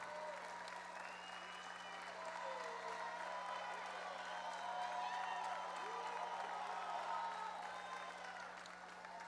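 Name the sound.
graduates applauding their families at graduation ceremony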